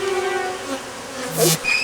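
Aggressive bees buzz around a beekeeper at a hive, a close, droning hum that shifts in pitch as one bee passes near the microphone.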